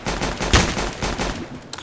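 Gunfire in the Roblox shooter Counter Blox: a dense burst of rapid shots with one loud crack near the middle, close and continuous over a low game rumble, with no talk.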